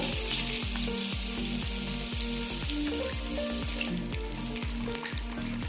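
Chillies fry in hot oil for a Telugu-style Chicken 65, giving a loud, steady sizzle with rhythmic clinks of a spoon stirring against the pan throughout.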